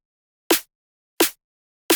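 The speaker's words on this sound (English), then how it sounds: "Add a hard-hitting snare." Three hard-hitting electronic snare hits from a drum and bass beat, each a sharp, punchy crack with a short tight tail, evenly spaced and played alone without any other instruments.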